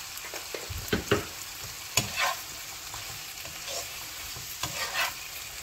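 Spoon stirring mussels varuval frying in a pan with pepper, a steady close sizzle under repeated scraping and clinking strokes of the utensil, with no talking.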